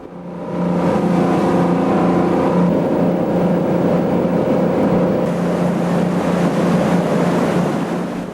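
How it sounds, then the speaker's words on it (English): A steady, droning tour boat engine hums beneath constant wind and water noise on San Francisco Bay, loud and continuous throughout with no voices. "We're off on the Tower Tours boat trip round the bay."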